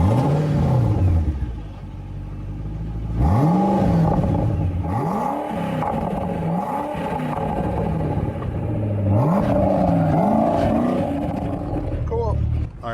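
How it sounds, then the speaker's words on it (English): A 2005 Ford GT engine starts and revs repeatedly, rising and falling in sharp bursts over a steady idle rumble, with some talk nearby. "we're gonna get a little rev for you. We're gonna go start up"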